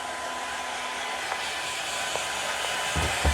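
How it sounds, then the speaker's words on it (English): A hair dryer blows on a dog, giving a steady, close, continuous whooshing drone for the whole stretch, with a couple of soft thumps near the end and no talking. "You can tell 2 different personalities with the hairdryer."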